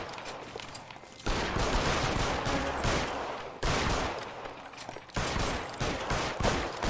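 Gunfire in the video game L.A. Noire, three long loud volleys of rapid overlapping shots, each one cutting in sharply after the last tails off, with no speech.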